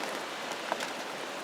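Rain falls on a windy carp fishing lake at Windsor View Lakes as a steady, even patter with a dull background hiss and no voices.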